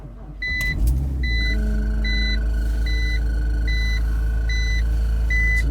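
A BMW X3 engine starts in freezing weather around -5 degrees, cranking into a loud, steady idle rumble with repeated dashboard chime beeps over it.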